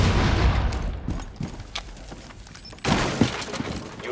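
A frag grenade in Rainbow Six Siege bursts with a sharp explosive crack amid scattered in-game impacts and debris, the loud blast landing near the end after a quieter stretch of rumbling gunfire-like noise.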